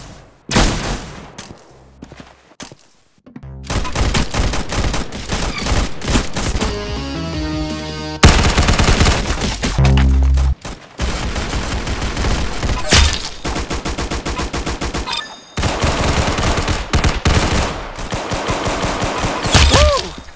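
Gunfire in a video game, loud and close, with rapid bursts and single shots coming in quick succession across a busy, dense stretch of play, punctuated by brief pauses.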